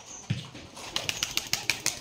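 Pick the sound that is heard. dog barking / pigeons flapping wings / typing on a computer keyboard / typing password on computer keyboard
pigeons flapping wings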